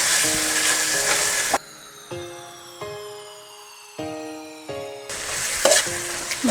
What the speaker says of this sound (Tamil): இப்போ நம்ம இதை நல்லா சாஃப்டாகிற அளவுக்கு வதக்குவோம்